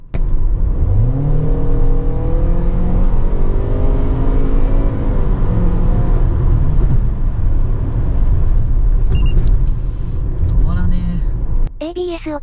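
A Toyota RAV4 with a naturally aspirated petrol engine accelerates hard on an open country road, the engine note rising steadily toward high revs with loud tyre and wind roar, then easing off near the end.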